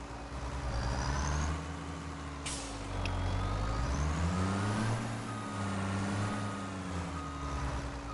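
A truck in Farming Simulator 25 rumbles close by, its engine rising and falling as it manoeuvres, with sharp hisses of air brakes releasing near the start and middle.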